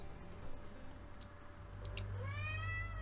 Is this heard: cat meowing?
yes